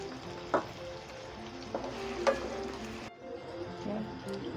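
Garlic and onion fry in a pan for aloo keema, a soft, steady sizzle with a few light stirring clicks and taps, quiet and close, with a little background speech.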